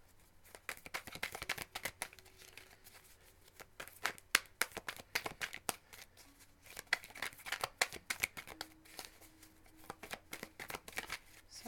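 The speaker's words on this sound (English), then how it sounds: "I don't know how loud the shuffling is in the videos" Tarot cards being shuffled by hand, a dense run of quick papery riffles and flicks with brief pauses, close and fairly quiet, with no talking.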